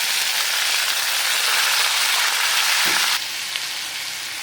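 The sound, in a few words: onions sautéing with crushed garlic and curry leaves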